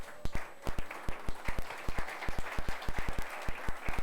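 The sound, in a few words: applause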